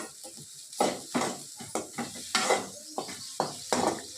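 A spoon stirs egg rice in a hot pan, giving about a dozen sharp scraping strokes in an uneven rhythm over a soft sizzle, close and moderately loud.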